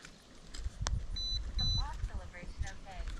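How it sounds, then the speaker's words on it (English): A Veeniix V11Air drone remote control gives two short, high electronic beeps in quick succession during calibration, amid faint background noise and some brief vocal sounds. "There goes the beep."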